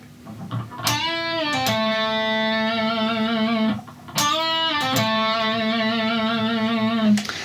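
Electric guitar plays a blues lick twice, each note bent and held with a sustained, slightly overdriven tone.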